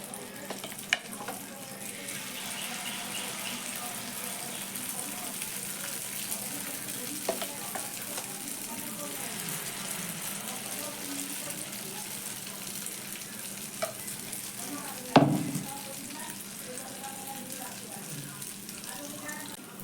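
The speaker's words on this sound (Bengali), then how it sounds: "এবার একটা হাতার সাহায্যে অল্প অল্প করে এই ব্যাটার আমি এক সাইডে করে এইভাবে দিয়ে দেবো।" Semolina batter fries in medium-hot oil with a steady, moderately loud sizzle and crackle, one sharp clatter partway through and a voice talking over it.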